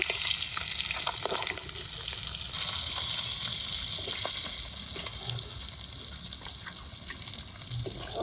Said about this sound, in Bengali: মাথাটা একটু কড়া করেই ভাজলাম।